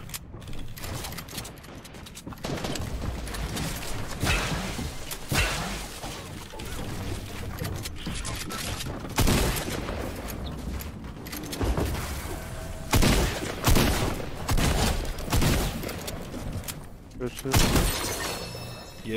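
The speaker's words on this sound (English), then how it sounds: "Other guys are gonna shoot." Gunfire in a squad-based shooter game, with bursts of shots and impacts in rapid succession throughout, loud and close, while players talk over the action.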